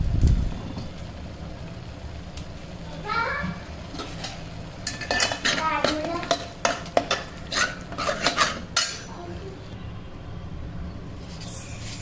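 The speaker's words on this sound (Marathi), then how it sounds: "कढीपत्ता टाकून घेऊया." Curry leaves go into a hot pan for mutton rassa and are stirred, with a metal spoon scraping and clinking against the pan in a run of sharp, close strokes over a faint sizzle.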